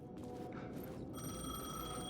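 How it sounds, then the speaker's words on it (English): A payphone rings in the video game Alan Wake II, a steady electronic ring with bright sustained tones over a dense, noisy game backdrop. "The payphone was ringing."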